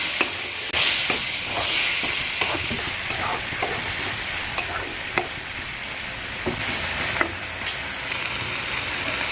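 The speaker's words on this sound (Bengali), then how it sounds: "এবার আমি এটাকে নাড়বো যতক্ষণ না তেলটা ছাড়বে ততক্ষণ একটু নেড়ে যাবে" Spice paste frying in oil for a taro curry with small fish is stirred repeatedly, a loud, continuous sizzle broken by crisp scraping strokes against the pan, close up and without voices.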